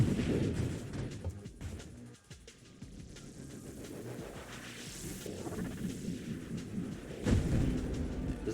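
A flashbang goes off in a combat video game as a booming, rumbling blast that rolls on in a continuous low roar, with whooshing sweeps and a few sharper hits, and no talking.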